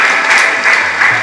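Dense, loud crowd applause at a scholarship award ceremony, a brief burst of steady clapping with no gaps.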